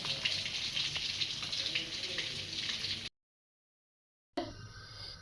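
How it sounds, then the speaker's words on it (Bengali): A pot of rice bubbles at a rolling boil with a steady watery hiss and gurgle. The sound cuts out briefly, then returns. "এদিকে ভাতও ফুটছে"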